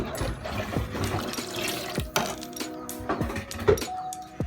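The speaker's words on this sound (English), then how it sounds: "I'm going to be adding water inside" Water pours and splashes into a pot of Nigerian jollof rice with clinks and knocks, moderately loud and close, with no talking.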